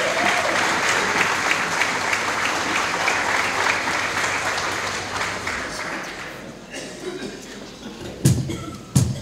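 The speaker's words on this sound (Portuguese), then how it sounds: "pedimos um aplauso para as receber" An audience at a carnival dance performance applauds loudly and steadily, and the clapping slowly thins out toward the end with a few scattered claps.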